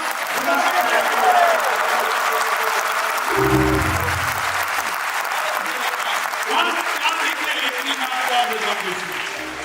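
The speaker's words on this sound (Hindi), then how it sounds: "आप लोग जोरदार तालियां।" Loud audience applause at a Hindi comedy poetry show, a dense sustained roar of clapping and crowd noise with brief voices and cheering rising over it.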